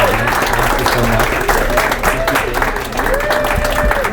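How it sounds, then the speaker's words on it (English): Audience at a Women in Web3 gala claps, moderately loud and steady, with voices talking over and among the applause. "A round of applause for our beautiful audience."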